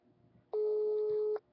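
A single electronic telephone tone from an unanswered phone call sounds once, steady and clear for nearly a second, against quiet room background.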